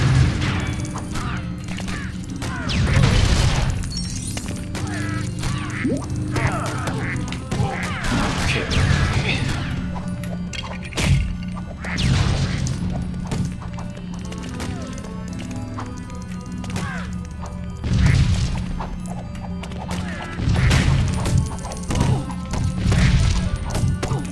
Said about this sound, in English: just blow these up